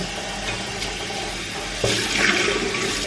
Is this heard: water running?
yes